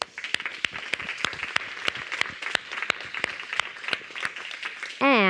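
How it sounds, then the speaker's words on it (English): Sparse, light clapping at a Copernicus CAMS general assembly, a handful of distinct, fairly evenly spaced claps rather than a full ovation, ending in a brief rising electronic tone. "So a full round of applause for all of you."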